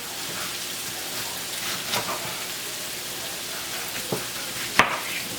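Longaniza sausage and chopped onion fry in a pan, a continuous close hiss and crackle with a few spoon taps, the loudest a sharp clack near the end.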